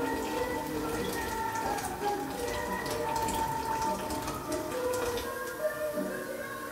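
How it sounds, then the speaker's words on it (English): Hot water is poured into a pot of mushroom soup, a steady close splash and trickle. "Adding in the hot water"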